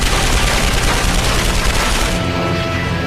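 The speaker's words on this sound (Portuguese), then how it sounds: "O Thunderbolt estremece sob o impacto de outra rajada." A documentary machine-gun burst strikes a P-47 Thunderbolt in wartime air combat, heard as a dense, loud rattling fusillade that cuts off abruptly near the end, with no talk.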